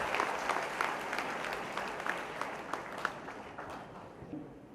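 An audience at the annual day ceremony of a commerce college in New Delhi claps, steady dense applause from a large hall crowd that holds its level for several seconds.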